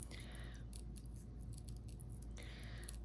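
Scissors snip through small paper pieces for a treat box card kit, quiet close crisp cuts in two short bursts at the start and end with faint soft rustling between.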